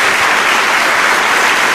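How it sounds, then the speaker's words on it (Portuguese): Congregation applauding during a church sermon, a loud, dense and continuous roar of many hands clapping, unbroken and close, with no voices over it. "Dê uma salva de palmas a Jesus."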